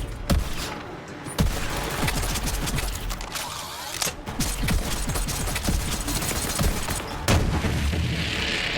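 In Borderlands 3, rapid gunfire pours through Zane's deployed barrier shield, with dense bursts of shots and heavy booming impacts layered in a loud, continuous battle din, punctuated by sharp louder blasts.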